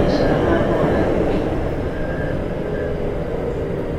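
A Keikyu 1500 series train, 1700 subseries, with a Toyo GTO inverter runs between Takasago and Oshiage, a steady rumble of wheels and motor with faint tonal inverter whine, heard from inside the carriage.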